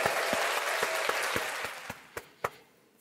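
A burst of applause from a group, steady at first and then thinning out into a few scattered, louder claps before fading.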